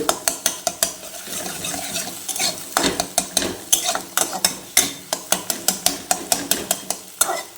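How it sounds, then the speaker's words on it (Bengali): A spatula stirs and fries one scrambled egg in a pan for restaurant-style egg tadka, with fast, regular, close clacks against the metal over a constant sizzle and no talking. "আমি এইভাবে ডিমের ঝুরিটা করে নেব"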